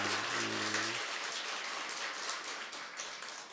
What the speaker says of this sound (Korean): 우리 범청년부 우리 큰 박수로 한번 격려하고 축복해 주시기 바랍니다